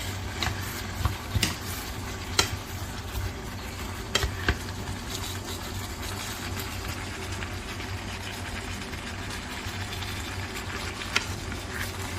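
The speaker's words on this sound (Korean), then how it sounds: "이 상태로 잘 저어주시면서 양념이 골고루 섞어주시면 됩니다" Dakgalbi, spicy chicken with a heap of vegetables and seasoning, being stirred and fried in a pan, with a steady sizzle, scraping stirs and occasional clinks of a utensil throughout, without talk.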